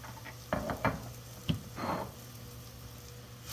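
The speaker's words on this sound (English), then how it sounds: "You're going to stir that up." Spoon stirring dried thyme and wine into a mushroom chicken casserole in a pot, a few soft scrapes and knocks with a gentle sizzle underneath, quiet and close.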